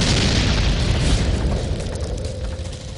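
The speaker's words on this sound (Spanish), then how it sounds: "Disparamos el lanzacohetes y..." A rocket launcher round strikes a PT-76 tank with a loud, deep explosion boom, followed by a rumbling, crackling tail that slowly fades.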